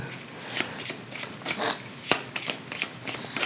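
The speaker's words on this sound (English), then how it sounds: "So let's just do a quick shuffle." Board game cards being shuffled by hand, a string of soft rapid riffling bursts and rubbing sounds, close and fairly quiet, with no talking.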